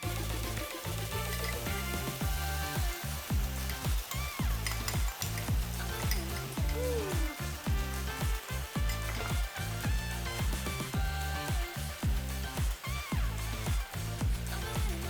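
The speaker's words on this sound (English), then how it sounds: "that's that water in the edamame that's making it sizzle" Edamame beans and garlicky sauce sizzling steadily in a hot frying pan, a loud constant crackle punctuated by rhythmic scraping and stirring knocks throughout, no voices.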